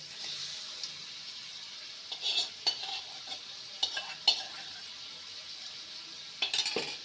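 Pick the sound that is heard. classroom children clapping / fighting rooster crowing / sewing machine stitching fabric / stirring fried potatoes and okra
stirring fried potatoes and okra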